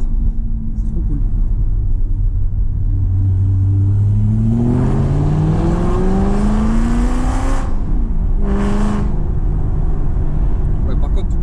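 An Aston Martin V8 Vantage revs hard with its exhaust valve open, a loud rising engine roar climbing in pitch over several seconds before a brief second blip, heard close up.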